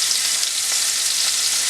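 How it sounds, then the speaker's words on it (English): Onions, reconstituted from freeze-dried, sizzle and fry in leftover bacon grease for a Brussels sprout hash, a steady, close, even crackling hiss with no pauses and no voices. "we're going to fry up our onions in it."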